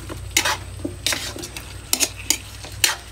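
A spoon scrapes and clanks against a pot while chicken feet adobo in coconut milk is scooped, giving several separate metallic knocks over a low simmering hiss.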